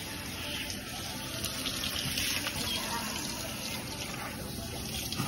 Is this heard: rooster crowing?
no